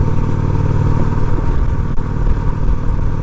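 A Honda Shadow 750 ACE motorcycle engine idles and runs nearby, giving a loud, steady low rumble with a throbbing pulse and one brief clank partway through, and nobody speaks.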